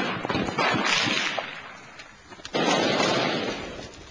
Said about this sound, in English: This sniper attack was a hasty affair.